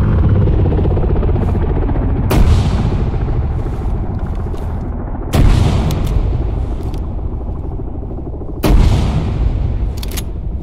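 Loud shotgun blasts in the Arma 3 military shooter game, three sharp booming shots spaced a few seconds apart over a constant rumbling engine drone, likely a helicopter.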